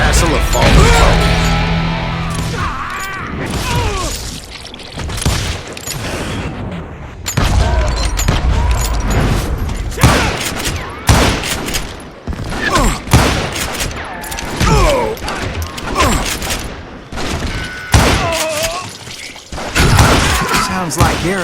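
Rapid bursts of gunfire and booming impacts from the game Call of Juarez: Gunslinger crackle in dense clusters, mixed with shouting voices and music throughout.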